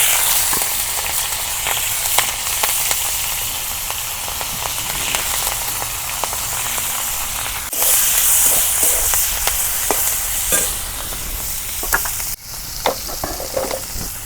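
Green chilies and onion sizzling steadily in hot oil for a village-style cabbage fry, a loud continuous crackle close up with occasional scraping stirs and clinks of a utensil against the pan.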